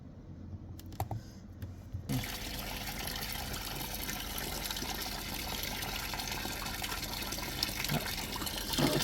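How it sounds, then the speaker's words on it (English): Water gushes steadily into a Samsung top-loading washing machine after its control board is repaired, a continuous rushing fill that starts abruptly after a couple of seconds of quieter clicks and runs on at an even level. "Now machine start already. Now water taken to the machine"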